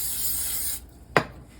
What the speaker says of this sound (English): next, spray your bowl.